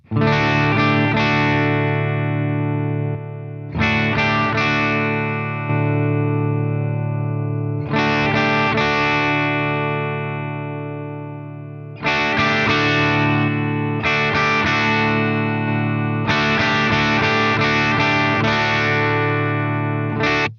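A bass guitar through a Headrush K Drive overdrive plays sustained, repeated low notes in several bursts, thick and steady with a slight growl.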